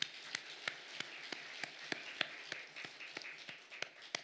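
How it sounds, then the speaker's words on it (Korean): A church congregation clapping together in a steady, regular rhythm, crisp hand claps repeating at an even pace, heard faintly at a distance with no talking over them. "우리 하나님께 박수 한번 드리겠습니다"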